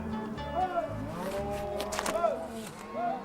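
Cattle moo among a herd on an Argentine ranch where a horse is being worked: several drawn-out, low moos overlap at moderate distance, with some faint voices in the background.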